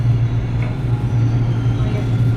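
An LRT 2 light rail train pulling into Marikina-Pasig station, a loud low rumble and hum of the carriage that stays constant throughout, heard from on board.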